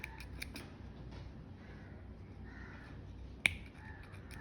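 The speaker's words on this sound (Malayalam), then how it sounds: "ഇവിടെ ഇപ്പോൾ 2 നിൽക്കുന്ന യാൺസൊക്കെ നമുക്കിങ്ങനെ കട്ട് ചെയ്ത് കൊടുക്കാം." Scissors snip through yarn to trim a crochet pompom, giving a few crisp clicks and one sharp, close cut near the end over a quiet room hum.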